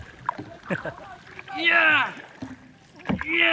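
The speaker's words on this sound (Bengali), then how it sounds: "আমরা চালাইতেছি নৌকা" A rowboat moves across Mohamaya Lake near Sitakunda with oars dipping into the water. Soft splashes and sloshing sit close, mixed with people talking aboard throughout.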